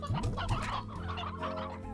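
Hens cluck in the Slime Rancher video game, a few quick rising clucks up front followed by softer chattering bird calls, fairly quiet with no talking.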